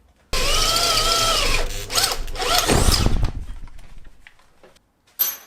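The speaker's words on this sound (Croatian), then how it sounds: "Znate da ste pogodili brzinu bušenja kad vam svrdlo otkida duže dijelove, dužu strugotinu." A drill bores through metal with a loud, close whine that shifts in pitch as it cuts, bogs into rougher grinding, then winds down and fades, followed by a brief clink.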